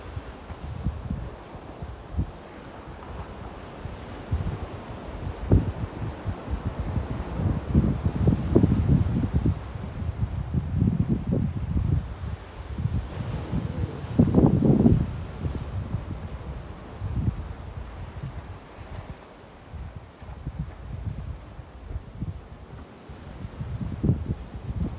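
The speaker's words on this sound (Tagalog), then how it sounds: "makapilbong hangin" Strong wind sweeps across the South Shore beach in Bermuda, buffeting the microphone with a loud, rumbling roar that swells into heavier gusts, with no one speaking.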